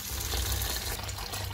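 Tap water runs steadily while lentils are rinsed in a strainer in a home kitchen, a continuous close splashing wash with a faint low hum underneath.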